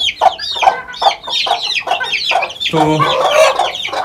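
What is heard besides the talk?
chickens clucking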